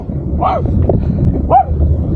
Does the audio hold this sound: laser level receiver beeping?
no